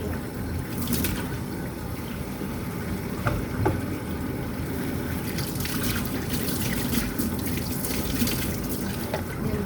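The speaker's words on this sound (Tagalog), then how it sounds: "Hugasan natin yung mais." Tap water runs steadily into a sink while sweet corn is washed under it, a continuous close splashing stream with occasional handling noises.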